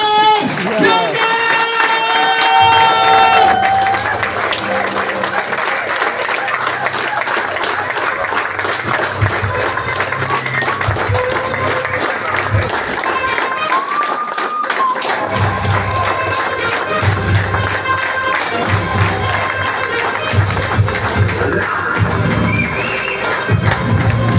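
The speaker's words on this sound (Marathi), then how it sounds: "उभा राहून श्री जोरदार टाळ्या वाजवून स्वागत करूया" An audience standing at a company event claps loudly in sustained, dense applause lasting the whole stretch, with scattered cheers, thumps and voices mixed in.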